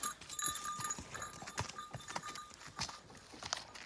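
Hooves of a draft horse clop at a walking pace, irregular steps fairly close, with rustling and faint background noise around them.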